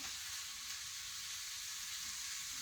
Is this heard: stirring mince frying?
yes